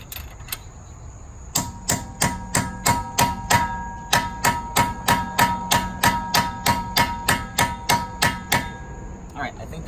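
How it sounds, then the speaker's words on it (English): Rapid metallic hammer strikes knocking a socket onto a car wheel lock ring out in a steady rhythm, about two per second, loud and close with a bright ringing tone. "Take a hammer and knock it in."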